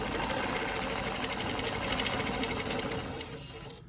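A longarm quilting machine stitches a Baptist fan pattern, a steady, close, continuous mechanical hum and rapid needle rhythm throughout, easing slightly near the end, with no talk.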